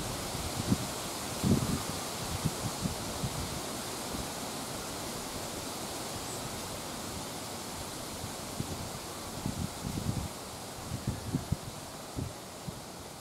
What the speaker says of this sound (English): Now it's windy out.